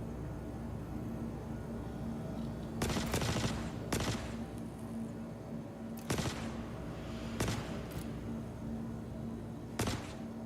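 Sparse bursts of gunfire from the space game Star Citizen crack out at irregular intervals over a steady low hum, each shot or short volley sharp and somewhat distant.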